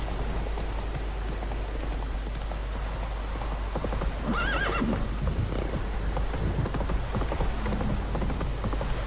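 In the video game The Witcher 3, a horse whinnies midway through steady rain pattering on surfaces, with hooves clopping faintly underneath.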